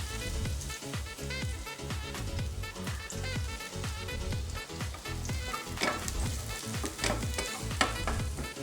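Garlic frying in a little oil hisses and crackles thickly and continuously, with busy spattering pops throughout and no voices.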